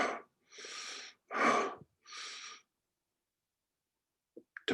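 A voice imitates heavy breathing with four long, loud, rasping breaths in steady rhythm, then a pause and a couple of brief faint sounds at the end.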